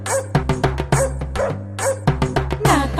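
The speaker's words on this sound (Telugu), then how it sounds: "అల్లం వారి కుక్క భౌ" A dog barks for a Telugu animated nursery rhyme: a loud run of quick barks and yips in two bursts over a steady musical backing.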